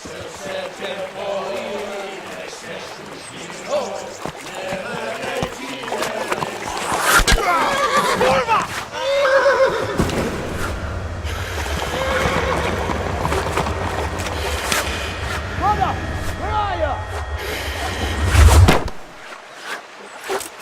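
Horse whinnying in the medieval video game Kingdom Come: Deliverance, on a river bank amid loud battle and crowd noise, with shouting voices and a sustained low rumble; the neigh is brief and partly masked.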